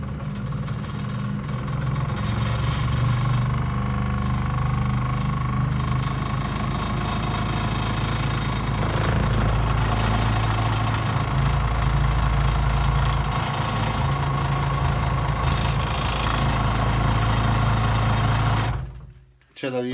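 An Einhell TC-SS 405 E electric scroll saw runs steadily at its lowest speed setting, a loud, close, continuous vibrating drone that cuts off abruptly at the end.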